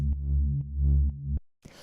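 Synth bass built from two detuned saw waves in Ableton's Operator, playing a few deep sustained notes with short gaps between them, loud and alone before cutting off abruptly.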